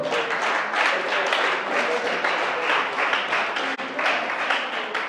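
A church congregation acclaims Jesus with sustained, loud applause, dense clapping filling the whole stretch, mixed with a murmur of voices.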